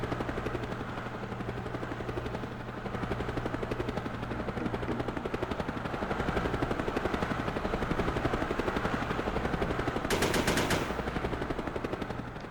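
Gunfire in the video game SOCOM US Navy Seals, heard as steady rattling automatic bursts over a constant helicopter-like rotor drone, with a sharper crackling burst near the end.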